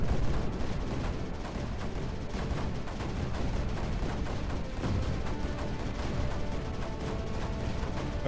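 Mortars fire in the strategy video game Creeper World 4 as a dense, continuous barrage of overlapping booms and thuds, moderately loud and alone.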